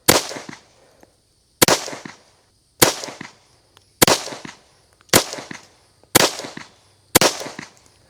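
Seven sharp, loud pistol shots from a 1911 chambered in .45 ACP ring out at even intervals about a second apart, each crack trailing into a short echo.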